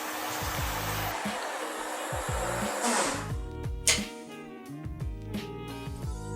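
A Bafang BBSHD mid-drive e-bike motor, unlocked to 1500 watts, whirs on throttle with a high electric whine over repeated rising and falling pitch sweeps, close and moderately loud, with a few clicks toward the end.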